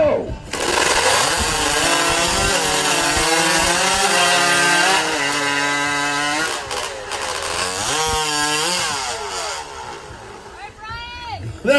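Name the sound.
lumberjack chopping timber in competition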